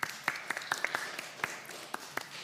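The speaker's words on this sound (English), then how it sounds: "I think that definitely deserves a round of applause" Scattered applause from an audience, a few separate claps ringing out at an uneven rhythm, fairly faint and thin as if only some people are joining in.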